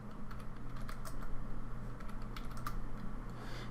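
Steady, fairly quiet clicking of keys on a computer keyboard with a light irregular rhythm and a few sharper single keystrokes like the enter key, over a low hum while someone models a wood deck on the computer.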